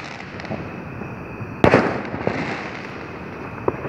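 A cannon-like firework explodes with one loud, sharp boom, trailed by crackling and a few fainter distant pops against steady background noise.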